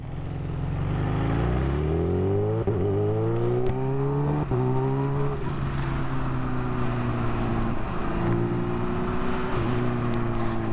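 Kawasaki Ninja H2 Carbon motorcycle being ridden, its engine droning loudly and steadily with rising pitch through several gear changes, each shift marked by a brief dip before the tone climbs again.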